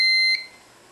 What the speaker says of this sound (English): when pin 13 of the Nano goes high, indicating water, it's detecting water, it will turn on the buzzer